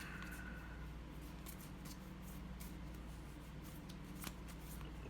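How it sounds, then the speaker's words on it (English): A deck of tarot cards gets shuffled and drawn from close by, with soft riffling and sliding card sounds running steadily throughout and a light tap near the end, all fairly quiet. "Let's just pull two really negative cards out"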